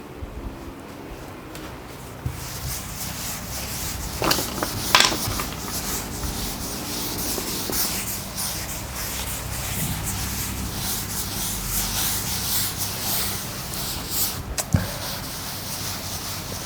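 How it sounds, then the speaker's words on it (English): Writing being rubbed off a classroom board, heard as a continuous close scraping, rubbing noise with a few sharper knocks and swipes along the way. "I am going to rub this"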